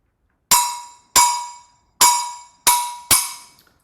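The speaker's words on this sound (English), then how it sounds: "let's move on to Rumba Clave now" Five sharp, bright clicks ring out in a rumba clave pattern, each one a crisp woody-metallic strike that decays quickly.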